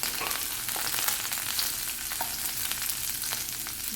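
Chopped garlic and green chillies fry in hot vegetable oil with a steady, close, dense sizzle and crackle, and small pops scattered across the whole stretch with no voices.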